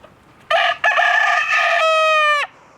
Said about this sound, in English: What a good rooster does is let all the hens eat first. He announces it to all the hens.